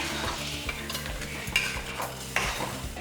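A utensil scrapes and stirs curry leaves sautéing in a sizzling pan for curry leaf thokku, with repeated clinks and shuffling strokes over a constant frying hiss.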